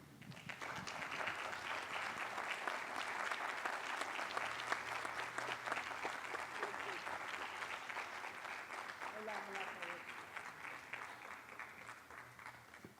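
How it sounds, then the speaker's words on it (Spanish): Warm, steady applause from an audience at a book fair reading welcoming a speaker, continuous dense clapping at a moderate distance, with faint voices murmuring underneath. "recibamos a Verónica con un fuerte aplauso"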